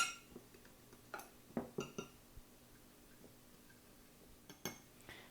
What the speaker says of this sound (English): I'm just going to take a fork and just stir